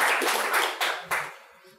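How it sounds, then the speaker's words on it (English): Applause for the panelists at a design system panel event, a burst of clapping from the audience that fades quickly. "Let's have a round of applause for our panelists."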